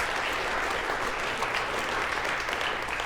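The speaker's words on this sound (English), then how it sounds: "So let's give all 3 of those companies a round of applause." A crowd at a Hall of Fame event applauds sponsor companies, dense even clapping that holds steady and loud for the whole stretch with no voices.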